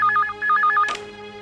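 A telephone rings with a bright electronic warbling tone in two quick bursts, then a short clatter as it is picked up and the ringing stops.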